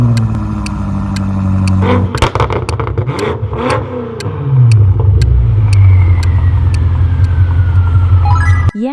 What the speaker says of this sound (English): brutal, shocking speed. The BMW X6M.